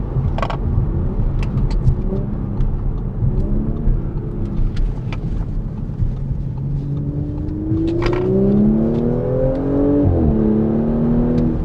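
A 2023 Audi S5 Sportback accelerating with its engine note rising in pitch, then a quick gear shift and another climb, heard steadily and fairly close.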